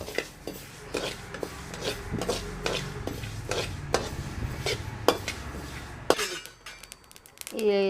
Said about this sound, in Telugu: ఈ మెంతులు కూడా దోరగా వేయించుకోవాలి